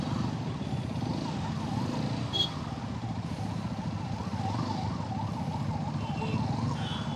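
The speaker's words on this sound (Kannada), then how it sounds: "ಗಾಡಿ ಜಾಗ ಬಿಡ್ರಪ್ಪ ಆಂಬುಲೆನ್ಸ್ಗೆ." An ambulance siren wails in a steady rising-and-falling cycle over the dense rumble of city traffic, holding at moderate distance throughout.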